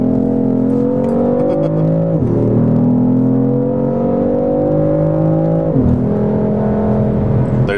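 Engine note from a 2015 BMW M3 while driving, partly piped through cabin speakers: a loud, steady drone that climbs in pitch through each gear, with two brief dips at shifts, heard from inside the car.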